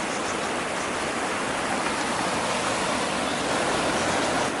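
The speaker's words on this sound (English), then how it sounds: "the water's coming out all over, look" Floodwater pours and rushes continuously out through a garden gate in a hedge, a broad, steady roar of heavy outflow nearby, with no voices.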